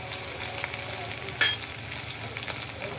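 Onions and green chillies fry in a hot pan, giving a steady, loud sizzle with a brief stirring scrape partway through.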